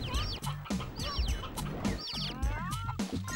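Clucking chickens layered over busy, bass-heavy music with a steady beat in the video game Mort the Chicken, the bird calls popping up repeatedly throughout.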